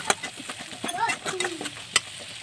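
Chopped onions frying in oil in a pan for a chicken and vegetable dish, stirred with a utensil; soft sizzling with scraping and clinking strokes, fairly close and quiet.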